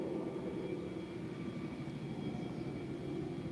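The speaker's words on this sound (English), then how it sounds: "I hear a helicopter." A military helicopter passes overhead in a garden setting, a steady, continuous low rotor and engine rumble that fills the whole clip at moderate, distant loudness with no voices.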